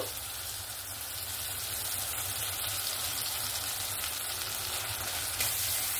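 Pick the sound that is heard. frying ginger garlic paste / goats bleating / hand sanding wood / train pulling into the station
frying ginger garlic paste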